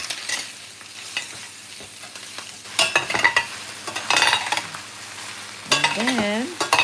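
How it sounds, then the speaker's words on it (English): Garlic browning in a pan sizzles steadily while a utensil stirs it, giving repeated scraping bursts against the metal. A voice speaks briefly near the end. "I can see some browning now on the garlic. We can do a little mixing."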